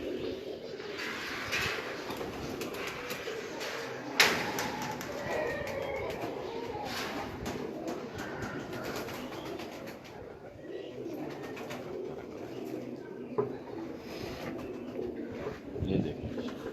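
Pigeons cooing on a rooftop in Islamabad, soft repeated coos over steady background noise, with a voice talking at moments and a sharp knock near the middle.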